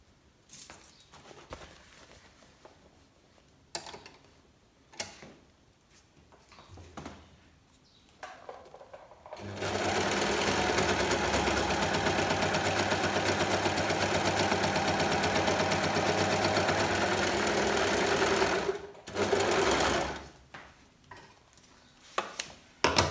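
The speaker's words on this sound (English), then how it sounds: "So I'm going to put it through the actual overlocker, which is quite a thick thread." A Brother Lock 2504D overlocker running through thick fake leather with heavy thread: quiet handling noises, then a loud continuous mechanical whirr for about nine seconds, stopping, followed by a few light knocks.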